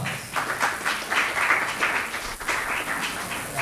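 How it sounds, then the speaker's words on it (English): Audience applause at an AI leadership summit, a moderate crowd clapping with uneven swells, somewhat distant and muffled, without speech. "Give me a big round of applause."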